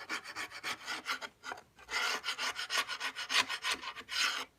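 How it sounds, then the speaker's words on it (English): Old, dry glue being scraped out of the wooden case of an 1880s E. Ingraham kitchen clock: a close series of quick, raspy scraping strokes in uneven bursts, with short pauses between them. "Just scrape out the old glue."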